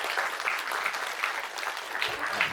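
Applause for parents at an interview about a Salangai Poojai dance ceremony, a dense, even patter of clapping hands held at moderate volume throughout, with no voices over it.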